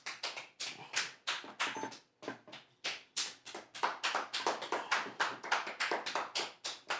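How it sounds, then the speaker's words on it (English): A few people clap their hands in a quick, uneven rhythm, with bursts of close, sharp claps separated by brief pauses, loud and near with no talking. "Are you clapping?"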